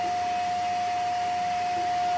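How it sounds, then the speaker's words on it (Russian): An old but powerful household vacuum cleaner runs with a steady, even whine and drone, moderately loud and unbroken, with no talk over it. "Это у нас старенький пылесос,"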